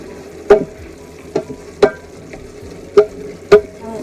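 Bamboo shoots sautéing in a pan with vinegar, a soft sizzle under several sharp clanks of a utensil stirring against the pan, close and fairly loud at irregular intervals.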